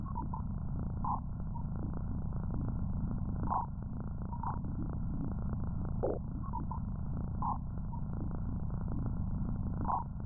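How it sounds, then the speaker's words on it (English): Sonification of the Voyager spacecraft crossing the termination shock at the edge of the solar system: a low, droning, purr-like rumble with scattered brief higher blips, steady and moderately faint throughout. "What you're hearing is the Voyager's path through what's called the termination shock."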